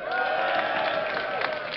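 An esports audience at DreamHack 2010 cheers for StarCraft II player OGSInka, a continuous roar of cheering, whoops and clapping from a large indoor crowd.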